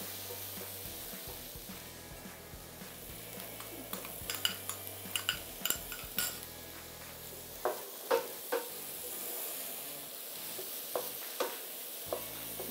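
Sliced yellow capsicum sizzles in a hot pan for fried rice, with intermittent scraping and clinks of a utensil stirring, moderately quiet and without talking.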